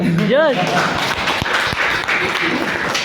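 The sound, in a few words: loud applause for the speaker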